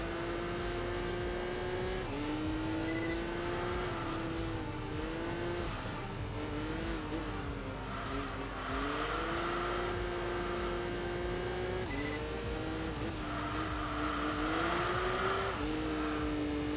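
A Camaro racing around a track in Enthusia Professional Racing, its engine droning steadily with pitch dips at gear shifts and intermittent tire squeal, loud and continuous throughout with no talking.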